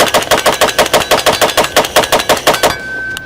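An automatic rifle fires one long, rapid burst of about twenty evenly spaced, loud, sharp shots at close range before cutting off abruptly, with a ringing tail afterward.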